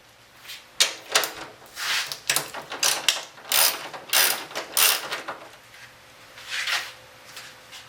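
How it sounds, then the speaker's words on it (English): Ratchet wrench with a 14mm socket loosening radiator mounts on a 1997 Mazda 626, a series of clicking, ratcheting bursts at close range with short pauses between strokes. "Using 14mm socket, you need to remove the radiator mounts"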